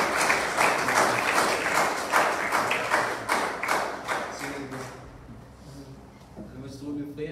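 A church congregation claps through a service, rapid rhythmic hand claps close and lively for about five seconds, then fading out as voices and room murmur remain.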